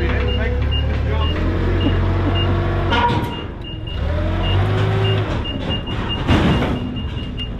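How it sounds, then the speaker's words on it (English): A forklift backup alarm beeps in a steady, repeating rhythm over heavy engine rumble and machinery noise while a 40-foot container is unloaded, with a person talking. "Listen to that backup alarm."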